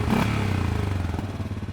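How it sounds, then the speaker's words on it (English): A 2025 Loncin XWolf 700 ATV's one-cylinder engine with its standard muffler thumps in a brief, rapid, even pulse, close and fairly loud, with a short revving swell at the start. "Like a serious one-cylinder engine. It really sounds good even with standard muffler."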